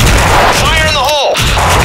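A grenade explodes in a first-person shooter game, a loud, close, booming blast that fills the clip, with a voice shouting over it.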